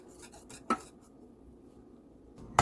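Cornmeal porridge with ginger, nutmeg and cardamom stirred in a pot, heard as a few sharp spoon clinks against the metal, spaced apart with quiet scraping between them, faint and close.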